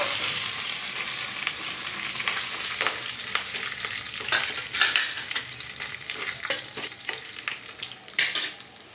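Rasam tempering with asafoetida sizzling in hot oil, a bright continuous crackling hiss with frequent sharp pops and spatters, fairly close and alone without talk.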